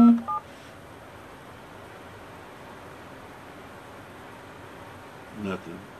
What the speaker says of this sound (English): Pick up the phone and dial the number.